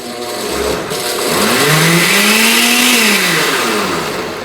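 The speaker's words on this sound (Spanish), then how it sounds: "Entonces, voy a licuar." An electric kitchen blender whirs through crêpe batter, its motor spinning up to a loud, rising whine that holds and then sags slightly before easing off, close by with no speech.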